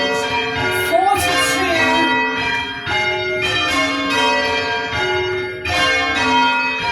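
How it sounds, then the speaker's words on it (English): Church bells at St Mary's church ringing changes, a loud, continuous overlapping peal of bell strikes that fills the whole stretch without pause. "Being able to ring with this star, we can change the order of the bells."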